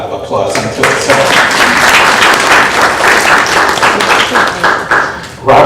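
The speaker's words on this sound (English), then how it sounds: "And that's deserving of a round of applause unto itself" Loud, sustained applause from a crowd of guests at a 90th birthday celebration, dense clapping filling the whole stretch with a brief swell near the end, with some voices mixed in.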